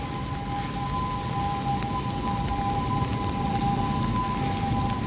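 Steady rain pours under the LRT bridge near the Quezon Bridge by the Pasig River, a dense continuous hiss with a faint constant tone running through it and no voices.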